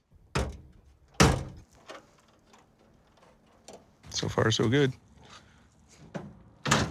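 Doors taken from a hotel are fitted onto a muscle truck, heard as several sharp thunks and knocks with quiet gaps between them, and someone speaks briefly partway through.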